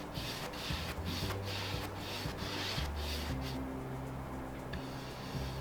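A wax brush rubbing wax in circular motions into a milk-painted treadle sewing machine, making a steady, close, dry scrubbing sound with rhythmic strokes about every half second.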